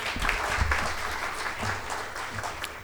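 Audience applause at a book launch and talk marking Management Day, steady clapping filling the room for about three seconds with a few faint voices mixed in.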